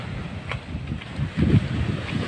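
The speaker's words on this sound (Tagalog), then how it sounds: "Malakas pa rin yung dagat sa amin dito" Gusting wind buffets the microphone over a low, rumbling wash of rough sea waves, steady and loud throughout with a stronger surge near the middle.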